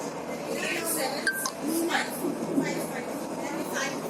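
Steady rumbling rail noise with faint metallic squeals and clinks, as heard riding inside a moving train in Dubai.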